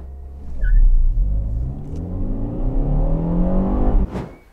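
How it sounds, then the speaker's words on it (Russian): A Lada Vesta fitted with a sport intake accelerates hard, its engine note climbing steadily in pitch from a loud, close rumble before dropping away at the end. "автомобиль начинает разгоняться"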